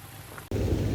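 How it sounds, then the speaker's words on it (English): Heavy rain with thunder in a muddy outdoor spot, starting as a quieter hiss then abruptly swelling into a loud, dense low roar of downpour and rumble. "the heavens have opened up with rain"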